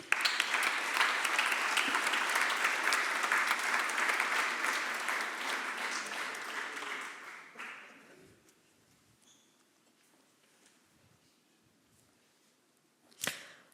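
Dense, loud applause from an audience at a university innovation award ceremony, lasting about seven seconds before fading into near silence, with one sharp knock near the end.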